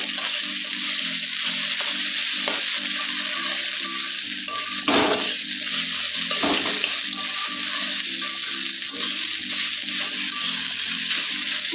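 Food fries in a pan as part of a home-cooked meal, a steady close hiss of sizzling oil throughout with a couple of sharper clatters of stirring, no voices.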